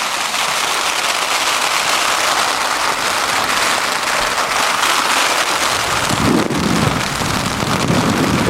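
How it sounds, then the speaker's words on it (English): Heavy rain hammers steadily on a Cuben fibre Trailstar tent on Dartmoor while gale-force wind roars around it, a dense continuous wash of sound with a stronger low gust rumbling in near the end. "It's still blowing a gale outside, and it's still hammering with rain."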